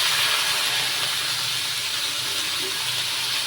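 Banana heart sautéing in a pan, a steady broad sizzle and hiss that holds evenly loud and close throughout with no talking.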